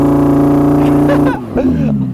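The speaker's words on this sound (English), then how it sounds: "If you engage launch control, then you can sort of rev it." An Audi R8 V10 rear-wheel-drive engine held at high revs under launch control gives a loud, steady droning roar that breaks off abruptly, then returns in rougher, uneven bursts.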